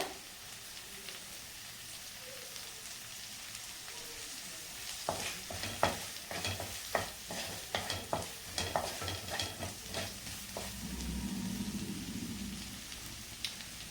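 A bread omelette fries in a pan with a soft background sizzle, then a run of sharp scraping and tapping stirs from a spatula in the middle before the sizzle settles again.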